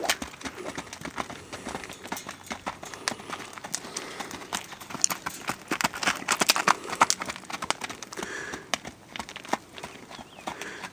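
Horse galloping around a round pen, a quick rhythmic thud of hooves on the ground that grows louder and busier toward the end, with faint bird calls in the background.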